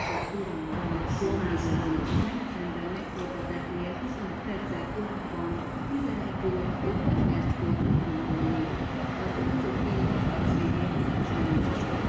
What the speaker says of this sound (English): The Euro Sprinter is back again.